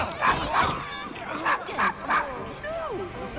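A dog in Assassin's Creed Syndicate gives a quick run of short, yappy barks and yips in several bursts, mixed in with game voices talking.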